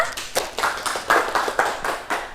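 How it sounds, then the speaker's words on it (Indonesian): Students clap in a classroom for a classmate, roughly ten sharp claps in a loose, slightly uneven rhythm, close and clear with no talking over them. "Tepuk tangan untuk Eva"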